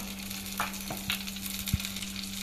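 Coriander seeds frying in coconut oil in a hot kadai, made for Mangalore-style cucumber sambar: a low, steady sizzle with a few sharp clinks and pops, fairly faint and close, with no talking.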